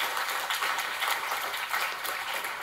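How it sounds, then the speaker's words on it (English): Audience applause for student presenters at a Kaggle Days machine learning event in Warsaw, an even, moderately loud patter of many hands clapping throughout. "Give an applause to our students."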